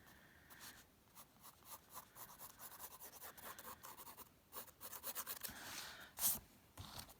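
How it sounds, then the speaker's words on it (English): A pencil lightly sketches a tropical fish on paper, soft, faint scratching strokes in short irregular bursts, close and quiet. "I'm doing it very, very lightly. I'm not putting too much pressure on my pencil"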